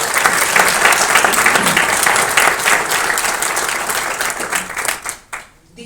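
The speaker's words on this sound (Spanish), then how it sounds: "Les pido un aplauso, por favor," An audience at a book presentation in La Paz gives sustained, dense applause that tapers off and stops just before the end.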